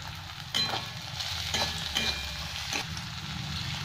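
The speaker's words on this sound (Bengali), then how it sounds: "মটরটাও ভাজা হয়ে যাবে সাথে আদা রসুন পেঁয়াজের সাথে" Peas frying with ginger, garlic and onion in a pan, a continuous close sizzle broken by several scraping stir strokes, no voices.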